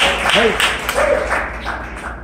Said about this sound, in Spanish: Denle un aplauso, Señor, hermanos.